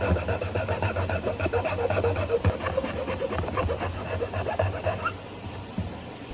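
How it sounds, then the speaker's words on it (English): A square file rasping out wooden corners of a drilled hole for a bar stool leg, rapid back-and-forth scraping strokes, close and steady, easing off near the end, no voices. "We're using a square file to get the corners that the drill bit didn't get"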